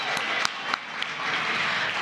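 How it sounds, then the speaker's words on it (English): A crowd at a live community crowdfunding event applauds a musician, a continuous rush of clapping with a few sharper claps standing out, held at an even level throughout. "Another round of applause for our amazing musician this evening"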